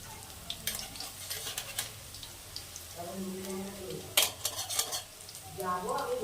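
Drumstick flower fritters fry in hot oil, with a steady sizzle broken by utensil stirring and a sharp metallic clink near the middle, while a voice speaks briefly over the cooking.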